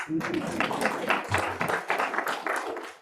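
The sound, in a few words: round of applause for correct answer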